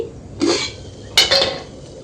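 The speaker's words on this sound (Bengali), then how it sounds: "এই প্লেটটাও রেখে দিচ্ছি" A plate spread with papad dough is set down on a hard surface: two brief ceramic clinks about a second apart, close and alone over quiet background noise.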